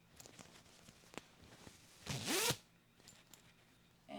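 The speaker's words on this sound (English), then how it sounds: "It has a hoodie, and there is a zipper" Zipper on a dry-fit gym hoodie zipped in one quick, close, rising rasp, surrounded by faint handling rustles.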